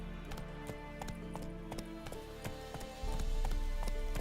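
A horse gallops in The Witcher 3 video game, steady rapid clip-clop hoofbeats running throughout with a constant game soundscape beneath.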